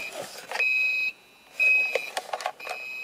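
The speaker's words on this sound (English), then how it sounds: "Now the alarm comes on and besides the alarm, I can also hear some buzzing." Electronic beeping from a Soviet digital alarm clock, steady tones sounding in bursts with short gaps, accompanied by a faint buzzing hum of mains ripple from the alarm speaker.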